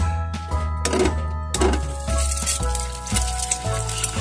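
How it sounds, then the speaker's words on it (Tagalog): An egg sizzling as it drops into hot, smoking oil in a pan for a Filipino breakfast, with loud crackling and popping bursts over a low hum, close by. "Kapag mainit na ang mantika at nausok-usok na, ilagay ang itlog."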